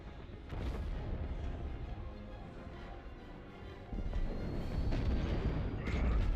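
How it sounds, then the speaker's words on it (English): Frigate blowing up in Star Wars Squadrons, a series of deep rumbling blasts and crackling bursts that swell louder partway through and keep booming to the end. "The frigate is about to explode!"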